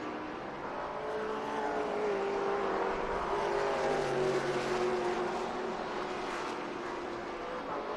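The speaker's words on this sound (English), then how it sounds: "Three-car battle right here with Said, Sheheen, and Ayers" Trans Am TA2 series race cars at Barber Motorsports Park, a sustained engine roar heard from a distance, with revving pitch rising and falling as several cars run close together.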